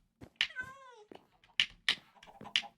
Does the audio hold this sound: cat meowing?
yes